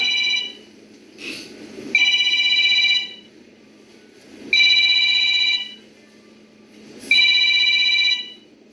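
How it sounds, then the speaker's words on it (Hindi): A telephone rings three times in regular bursts, each electronic trill lasting about a second, with quiet room noise and faint background activity between rings. "सलमा का फोन है"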